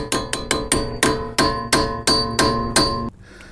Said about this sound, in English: you tap the end of this screwdriver